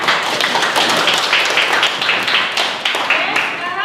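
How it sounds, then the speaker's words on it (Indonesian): Classroom applause as students clap for a group's correct answer, a brief burst of scattered hand claps from a small group indoors, fairly loud and close, mixed with voices. "beri tepuk tangan"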